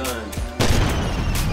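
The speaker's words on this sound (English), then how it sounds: "It's called the grenade launcher." A grenade launcher in Roblox Left 4 Survival 2 fires and then a loud blast hits, a short thump followed by a sudden heavy burst that rumbles on briefly.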